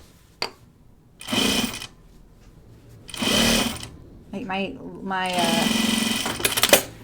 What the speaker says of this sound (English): sewing machine light is so noisy. Like it's rattling.